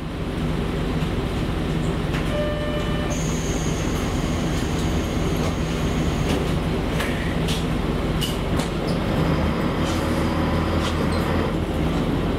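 A train on the JR Kyushu Ibusuki-Makurazaki Line runs steadily, its loud continuous rumble and rail roar filling the cabin, with brief squeals and clicks over the constant noise and no talking.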